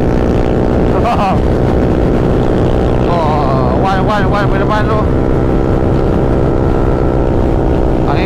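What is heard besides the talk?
strong wind buffeting a moving motorcycle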